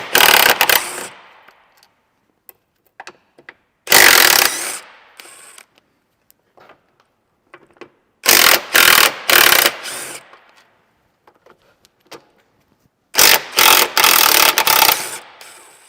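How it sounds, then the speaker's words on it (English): A power tool spins out the 13mm battery pack bolts on a Tesla Model S, heard as loud rattling impact bursts in three or four groups, separated by quiet stretches with faint clinks. "now we need to remove the front bolts for the battery pack, 13mm"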